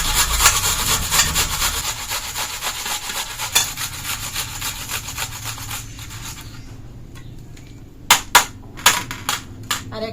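An onion is rubbed against a grater in a quick, even series of rasping strokes close up, slowing to a few sharp isolated scrapes at the end.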